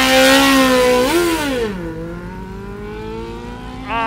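Sport motorcycle engine revved hard at a controlled track launch, a loud close-up high-pitched wail that rises, dips and settles into a steady drone before picking up again near the end.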